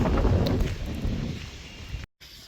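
Gusty wind buffeting the microphone outdoors in Ireland, loudest at first then easing, with a brief dropout near the end.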